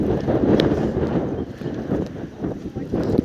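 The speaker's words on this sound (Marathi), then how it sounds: "वारा खूप आहे" Heavy gusts buffet the microphone with low rumbling, surging and easing, on Rajgad fort in Maharashtra, India, while a voice speaks faintly underneath.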